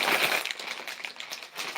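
Old plastic bags of Lego pieces crinkle and crunch close up, a dense burst of rustling that eases off then flares again.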